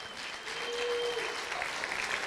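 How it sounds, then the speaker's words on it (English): An audience claps in warm, steady applause at a DemoJam tech event, a continuous patter with no talking over it. "round of applause for Carolina"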